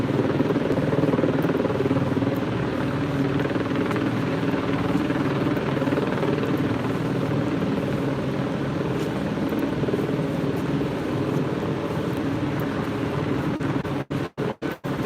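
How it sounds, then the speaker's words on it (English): A helicopter passes overhead above a Los Angeles street at night, its steady, heavy rotor drone filling the air continuously and fairly loudly, with a few sharp clicks at the very end. "With helicopter traffic"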